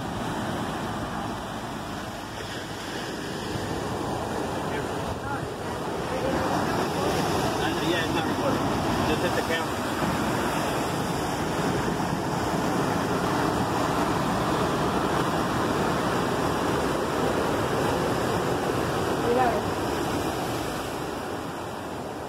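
Ocean waves break below lighthouse ruins on a high coastal cliff in Puerto Rico, a continuous broad surf roar that swells slightly midway, heard from above with wind buffeting the microphone.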